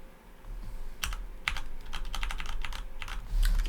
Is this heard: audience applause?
no